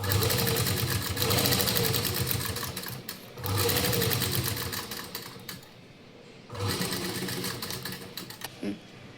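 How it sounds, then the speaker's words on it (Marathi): A sewing machine stitches a waste-material cupboard organiser in three sustained runs of rapid, mechanical whirring and clattering, separated by brief pauses, close and fairly loud. "हे आपण आता स्टिच करून घेऊया"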